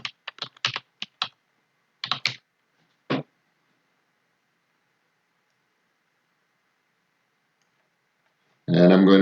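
A computer keyboard's arrow keys tapped in quick, sharp bursts of clicks, a flurry of several presses followed by a few isolated taps, close and crisp against silence, then a brief louder noise at the end.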